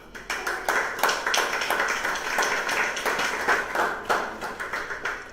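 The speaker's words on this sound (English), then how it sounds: "Therefore, I want us to applaud her once again." Audience at a graduation ceremony in Nigeria applauding, a dense, fairly loud wash of many hands clapping continuously throughout.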